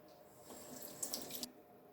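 Running water from a kitchen sink tap pours quietly while hands are washed under it, with a brief louder splashing burst in the middle before the flow cuts off.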